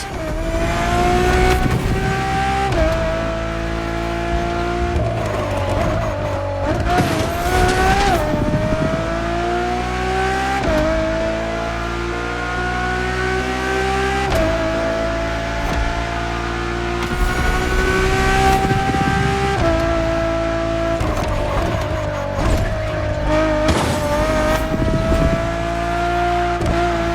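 A Ferrari Enzo in The Crew Motorfest revs hard and runs through the gears, its loud engine note climbing and dropping again and again over nearly half a minute, with no talk.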